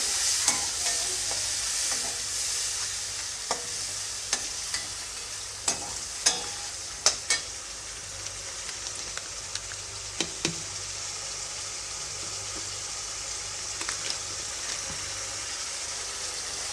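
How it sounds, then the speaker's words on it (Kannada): A tamarind spice mixture simmers and sizzles in a pan for a North Karnataka girmit seasoning, with a steady frying hiss broken by sharp spoon knocks and scrapes as it is stirred, no talk. "ಚೆನ್ನಾಗಿ ಮಿಕ್ಸ್ ಮಾಡಿ ಒಂದು ನಿಮಿಷ ಇದನ್ನು ಚೆನ್ನಾಗಿ ಕುದಿಸ್ಕೊಳ್ಳಿ"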